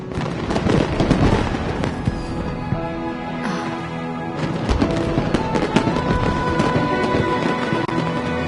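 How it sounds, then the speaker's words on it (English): Fireworks burst continuously during a lantern festival in Genshin Impact, a dense, loud stream of crackling pops and booms with scattered sharp bangs and no talking. "Did you see that? Way over there, a firework that looks just like a pig!"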